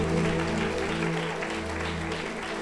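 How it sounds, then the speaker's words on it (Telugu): A church congregation claps loudly together during a sermon, a dense continuous wash of applause with sustained music or tones beneath and a faint voice underneath. "సరే గట్టిగా చప్పట్లు కొడదామా"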